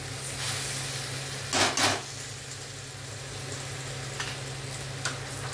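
Rice tipped into a hot frying pan for chicken masala pulao, a brief rattling pour followed by a steady low sizzle and a few soft clinks, close by with no talking.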